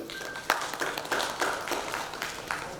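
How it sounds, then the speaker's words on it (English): Conference audience at an education leadership summit opening session giving scattered applause: a handful of separate, fairly crisp claps spaced out over a couple of seconds, thin rather than a full ovation. "can we have a huge round of applause for yourself?"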